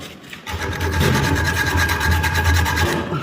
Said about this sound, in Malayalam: എൻ്റെ ആക്സോ ഉപയോഗിച്ചിട്ട് അതിൽ സ്ലാഗും കാര്യങ്ങളൊക്കെ കളയാൻ വേണ്ടി പോവാണ്.